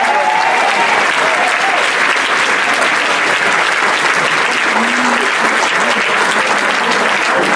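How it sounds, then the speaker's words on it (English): Sustained, loud applause from an audience honoring Judge Morgan fills the room evenly and without pause for the whole span, with no voices rising above the clapping. "can we just give Judge Morgan another round of applause?"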